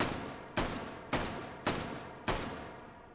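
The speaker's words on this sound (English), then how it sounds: "Let's do 5 shots just to compare." Four evenly spaced shots from a Model 8 rifle in the VR game H3VR, each a sharp loud crack with a decaying echo, about half a second to a second apart and heard alone.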